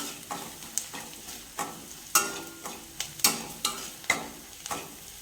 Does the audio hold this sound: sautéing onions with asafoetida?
yes